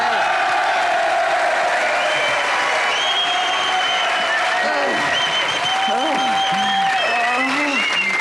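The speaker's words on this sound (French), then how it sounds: "je vous demande d'applaudir très fort Philippe Candeloro" A French television studio audience in 2006 applauds loudly for Philippe Candeloro, with strong clapping mixed with cheers and whoops, while music and voices carry on over the din for the whole stretch.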